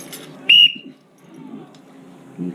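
One short, sharp whistle rings out at a front door during a lock change. It is loud and pitched high, then quieter indoor rustling and handling noises follow.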